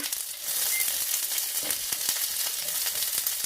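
Onions frying in a couple tablespoons of vegetable oil in a skillet, an even, steady sizzle with faint crackles, close and without talk.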